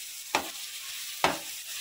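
Dry skimmed milk powder is roasted and stirred in a pan for carrot halwa, with two brief scraping strokes over a faint, steady sizzle.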